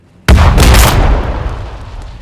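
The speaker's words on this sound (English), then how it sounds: "Let's do a demolisher cannon. Firing!" A demolisher cannon fires in Warhammer 40K Battlesector, one loud booming blast with a heavy low rumble that starts abruptly and decays into a long, rolling tail.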